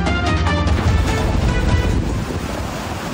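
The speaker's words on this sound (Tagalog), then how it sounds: "Dahil sa malalakas na alon, ulan at hanging dala ng Super Typhoon Nando sa Calayan, Cagayan at iba pang lugar sa Hilagang Luzon" Strong surf and gusting wind driven by Super Typhoon Nando batter the coast at Calayan, Cagayan in northern Luzon, a loud, continuous roar of crashing waves with wind buffeting the microphone and no voices.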